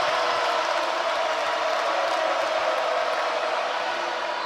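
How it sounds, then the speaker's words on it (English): A basketball arena crowd roars loudly and continuously during a college game between Auburn and Alabama, a broad, sustained cheer with no break. "And here comes the crowd again."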